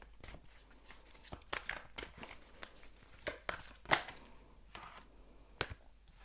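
Tarot cards are shuffled by hand in a quiet room, giving soft papery riffles and sharp flicks that come in irregular bursts, close and fairly faint.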